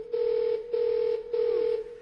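A telephone making three steady, evenly spaced electronic tones, each held for about half a second with short gaps between, clear and close with no talking.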